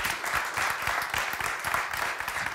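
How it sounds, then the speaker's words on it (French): A studio audience at a live broadcast applauds guests after their talks, a full, sustained clapping from many people that holds steady and fairly loud. "On peut vous applaudir pour vos témoignages passionnants."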